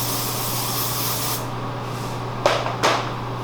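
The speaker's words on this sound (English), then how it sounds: "and I like to take hairspray." Hairspray aerosol sprayed onto clean hair while sew-in beaded extensions are being prepared: a continuous loud hiss, followed by two short sharp bursts, with a low steady hum underneath.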